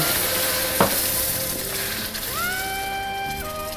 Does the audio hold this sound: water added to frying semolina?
yes